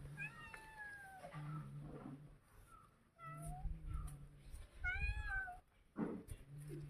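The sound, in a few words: cat meowing while fish is cleaned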